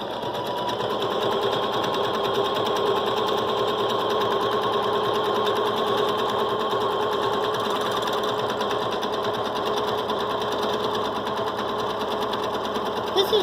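A sewing machine mounted on a Grace Cutie quilting frame stipples a quilt, its needle running in a fast, even, continuous hum and rapid clatter close up for the whole stretch.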